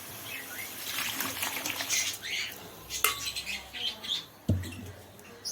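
Boiled lentils cooked with tomato and turmeric pour into a pan of vegetables, a soft wet trickle and slosh with a few light metallic scrapes and clinks from a utensil, fairly close and quiet.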